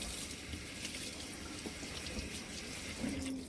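Tap water runs steadily into a sink while quinoa is rinsed and shaken, giving a close, continuous splashing hiss with small bumps and clinks. No one speaks.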